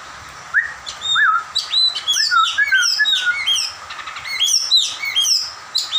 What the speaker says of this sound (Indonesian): Nah, di sini ada kacer. Sudah bersuara juga ya.